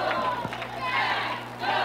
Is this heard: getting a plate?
no